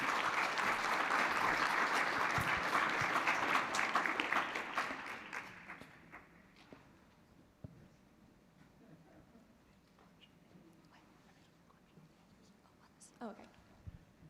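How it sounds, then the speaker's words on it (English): A conference audience claps for a speaker. Dense, loud applause for about five seconds, then it quickly thins out into a quiet room with scattered small noises and soft murmurs. "maybe we can give our speaker another round of applause."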